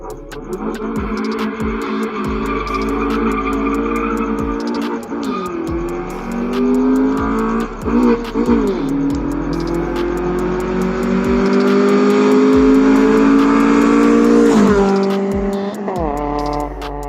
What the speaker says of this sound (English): I'm going to be testing the car